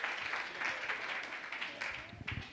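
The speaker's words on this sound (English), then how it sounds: "Can we have a round of applause for our panel?" Audience applauding a tree symposium panel on healthy yards, a steady wash of clapping from a seated crowd at moderate distance, fading slightly with a few voices underneath near the end.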